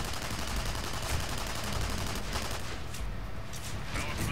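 Continuous rapid gunfire from the Technician class weapon in Tribes Ascend rattles on steadily and loudly throughout, a dense stream of shots without pause.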